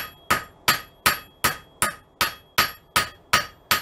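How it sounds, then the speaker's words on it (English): Blacksmith hammer peening hot metal into a leaf shape, ten sharp ringing blows in a steady even rhythm, close and loud, each strike decaying quickly before the next. "by using the peen, you can see how the hammer has now spread that into a leaf shape"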